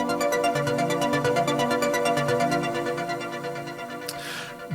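An analog synth patch runs through an arpeggiator, firing rapid, evenly spaced repeating notes over sustained bass tones, steady and loud, with a brief noisy swish near the end.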